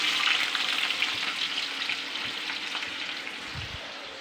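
Potatoes fry in a pan, making a loud, dense, close sizzle that holds steady and eases slightly toward the end, with a faint low knock near the close and no voices.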